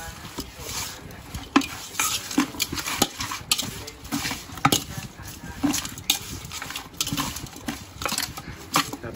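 Chicken is mixed close up with fish sauce and seasoning, giving irregular wet squelches, soft slaps and rustling strokes.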